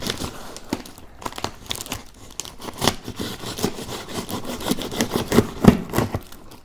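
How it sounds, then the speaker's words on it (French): A knife slices straight through a cardboard shipping box, giving a run of dry crinkling, tearing rasps and crunches that grow louder and denser toward the end, with no talking. "Alors oui, ce couteau-là coupe très bien."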